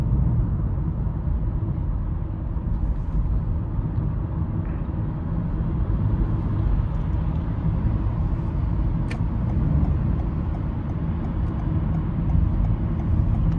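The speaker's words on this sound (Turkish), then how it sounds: "Şimdi benzinli motorumuzla çalıştı." A Toyota Yaris Cross Hybrid on its petrol engine, heard from inside the cabin as a steady low engine and road rumble that stays constant and moderately loud.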